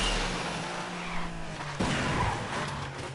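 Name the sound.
car crashing into a wall in Need for Speed video game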